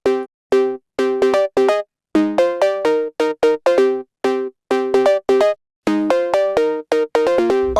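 A synthesized phonk cowbell patch built in the Vital synthesizer, struck in a fast rhythmic pattern of bright, pitched metallic hits, loud and dry with short decays, no voice present.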